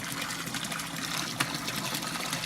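A DCT 15000 water pump runs in an aquarium setup with a small leak, giving a steady, close hiss of rushing and gushing water that holds constant throughout with one brief splash-like burst midway.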